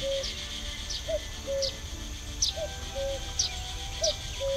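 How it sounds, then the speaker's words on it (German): A cuckoo calls repeatedly in The Night of the Rabbit video game, clear two-note hoots recurring about every half second to second, with faint higher chirps above a quiet ambient bed. "ein Kuckuck."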